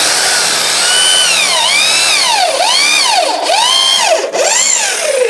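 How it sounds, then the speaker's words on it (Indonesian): An electric drill on a modest 450-watt household supply bores into very thick wood, its loud motor whine dipping and recovering in repeated swoops as the bit bites, steady and close with no talk. "Kita coba untuk mengebor kayu ini kayunya sangat tebal ini"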